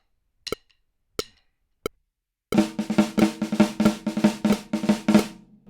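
A drum kit played in a sticking pattern set in triplets: three isolated single strokes, then a fast, even run of close, crisp drum hits lasting about three seconds.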